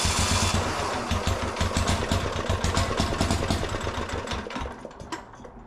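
A Gravely C10A garden tractor with a repowered diesel engine cranks and catches, its rapid chugging beat loud and close, then roughness settling toward the end.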